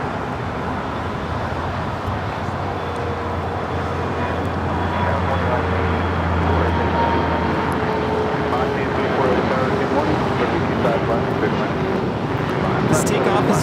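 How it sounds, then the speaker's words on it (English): Korean Air Flight 17 from Seoul comes in to land on runway 24 right at LAX, its jet engine roar building steadily over distant airport and road noise. "Korean Air Flight 17 coming in from Seoul, arriving there on the north side"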